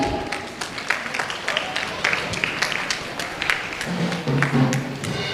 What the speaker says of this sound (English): with a huge round of applause, let's invite Pranathi teacher to the podium.